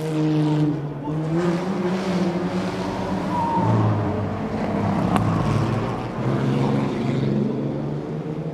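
1950s sports racing cars, including Phil Hill's Alfa Romeo and a 1952 Maserati A6 GCS, roar around the Monaco Historic Grand Prix circuit. Several engines rise and fall as the cars pass, with a sharp crack partway through.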